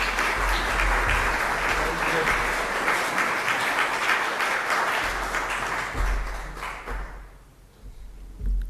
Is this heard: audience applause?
yes